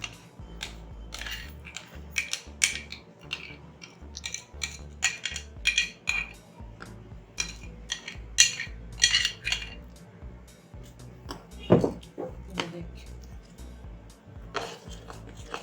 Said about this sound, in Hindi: ये सारी चीज़ें हम इसमें मिक्स कर लेंगे, इसके अंदर ही ऐड कर लेंगे और इसकी डो बना लेंगे